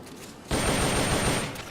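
Burst of M16 assault rifle fire in the video game Metal Gear Solid Peace Walker, a loud continuous volley that starts abruptly after a brief quiet lead-in and holds steady for over a second.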